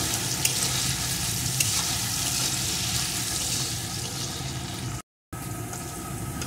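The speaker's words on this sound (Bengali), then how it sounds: "আলুগুলোকেও আমি সুন্দর করে ভেজে নেব।" Potatoes seasoned with salt and turmeric fry in a pan with a constant loud, close sizzle that holds steady throughout, with a brief dropout near the end.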